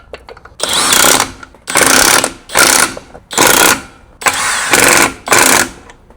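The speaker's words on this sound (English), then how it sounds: "Now we put back on the wheel and we start putting on the nuts" A power tool drives the wheel nuts back on a Yamaha G29 golf cart wheel, six loud whirring bursts of about half a second to a second each, separated by short pauses.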